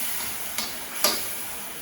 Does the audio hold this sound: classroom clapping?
no